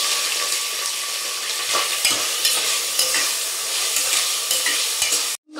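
Onions are frying in a pan with bay leaf, cloves, cardamom and cumin for Tamil coconut milk rice. A steady, close sizzle is broken by scraping spoon strokes as they are stirred, then the sound cuts off abruptly.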